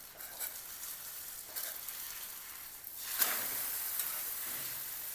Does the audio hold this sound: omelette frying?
yes